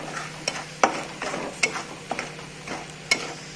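Spices and chillies fry in oil in a pan, giving a soft continuous sizzle broken by sharp clicks and scrapes of stirring at irregular intervals, close and fairly quiet.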